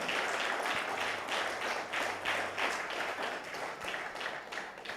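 A church congregation claps hands together in a steady, rhythmic beat, each clap sounding in unison across the room and repeating evenly for several seconds.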